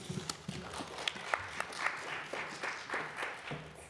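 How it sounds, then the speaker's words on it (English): Applause from the audience at a city council meeting: a short burst of scattered hand clapping in a hall, moderately loud and sparse, fading within a few seconds with no talk over it. "we try not to clap after every speaker"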